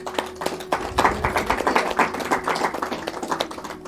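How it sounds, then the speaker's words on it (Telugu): A lone speaker claps hands in a fast, steady run of sharp claps that builds to a dense patter and then eases, close and clear with no talking over it. "శీలం అంటే మీకు అర్థమైనందుకు నేను మీ అందరికి నేను చప్పట్లు కొడుతున్నాను."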